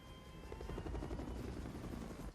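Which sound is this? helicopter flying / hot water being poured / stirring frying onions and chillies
helicopter flying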